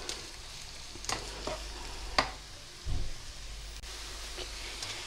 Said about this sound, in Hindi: ये देखें, ये प्याज फ्राई हो गई है